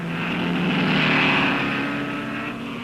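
A 1950s Aston Martin DBR1 sports racing car pulls away from the pits during an endurance race, its engine note a steady mid-pitched drone swelling slightly and then easing as it drives off.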